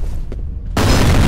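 A grenade in F.E.A.R. goes off with a loud, sudden blast that bursts into a sustained, roaring boom after a moment of quieter game sound.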